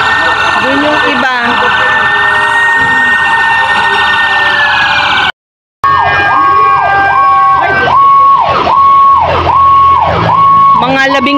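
Fire truck sirens sound at a neighborhood fire near an old house, loud and close, first as a steady high tone, then after a brief cut as repeated rising-and-falling wails, with voices faintly underneath.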